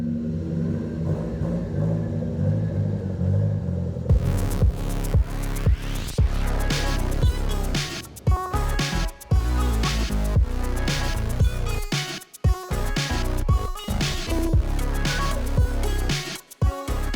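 A Nissan Skyline R30 RS-Turbo driving on the road, its engine a steady loud rumble with shifts and revs throughout, starting from a quieter idle before pulling away.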